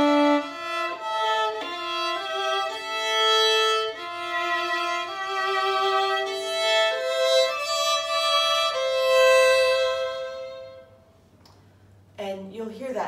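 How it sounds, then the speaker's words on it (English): A slow, sustained string passage played in double stops, two-note chords held and shifting under a bowed melody that fades out, then a voice speaks briefly at the end. "I'll play a slower section with double stops,"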